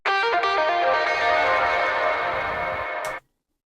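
A short distorted, lo-fi guitar phrase with heavy reverb, a few plucked notes ringing out and sustaining for about three seconds before cutting off.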